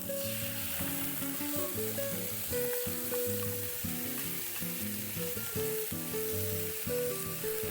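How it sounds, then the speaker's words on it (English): A squid mixture drops into the center of a hot wok over medium-high heat in a Korean stir fry, giving a steady, close sizzle that runs throughout beneath prominent background music. "Then in the center of the wok, drop in the squid mixture."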